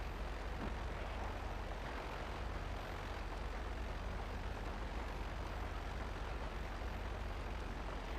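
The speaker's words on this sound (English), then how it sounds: "Do I hear a jet?" A jet aircraft engine in GTA Online roars as a dense, constant broadband rush that holds steady and loud throughout without breaks.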